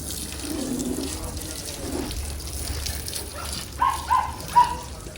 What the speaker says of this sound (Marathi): मग मस्त पाणी मारतोय